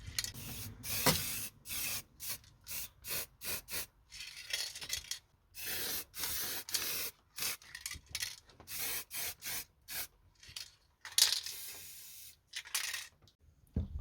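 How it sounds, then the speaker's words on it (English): Old aerosol can spraying blue paint in a shed, a series of short sharp hissing bursts, some brief and some lasting about a second, separated by silent gaps, close and moderately loud with no talking. "just looked through some old aerosol cans I had lying around the shed"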